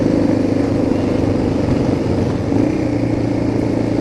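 Motorbike engine running steadily nearby, a droning mid-pitched hum with a slight rise around the middle, loud and continuous with no talk over it.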